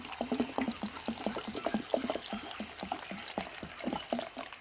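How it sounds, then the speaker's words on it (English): Purified water is poured onto strawberry plants in an indoor tiered planting tower, a close, gurgling trickle with rapid irregular splashes running continuously. "we're going to water it in and see how well this works"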